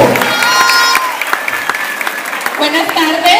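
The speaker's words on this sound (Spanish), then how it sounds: "aplauso fuerte para Suhey." A crowd claps loudly for Suhey, a woman from Taganga introduced at a public pact-signing event with a mayoral candidate in Santa Marta; steady applause with scattered whistles and voices mixed in, close and continuous.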